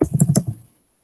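Loud clacking keystrokes on a computer keyboard at a workstation, a quick uneven burst of close clicks over about half a second, then silence and one last tap.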